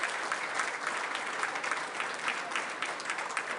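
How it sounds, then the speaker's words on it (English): A crowd claps steadily and warmly, a dense wash of applause sustained throughout with no voices standing out. "Let's give them all a round of applause."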